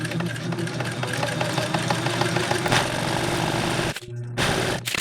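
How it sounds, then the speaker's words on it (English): A sewing machine stitches straps for a homemade GoPro chest mount, a steady loud rapid mechanical chatter that stops briefly near the end and then resumes. "I'm going to start by sewing my 2 shoulder straps down onto 1 waist strap."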